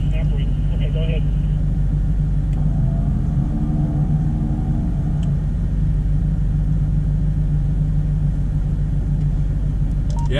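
A Toyota Tacoma engine idles and pulls up a snowy hill during a 4x4 recovery, a steady low rumble with a slight rise in effort partway through, running continuously and close by.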